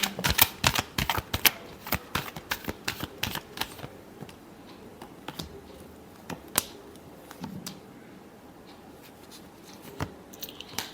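Tarot cards shuffled in dense rapid riffling clicks for the first few seconds, then sparser scattered card snaps and taps, close and fairly quiet with no talking.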